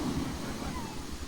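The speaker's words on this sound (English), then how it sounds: "The waves keep rolling in." Ocean waves roll onto Maho Beach in the Caribbean as a steady, broad wash of surf with wind buffeting the microphone, continuous and fairly close.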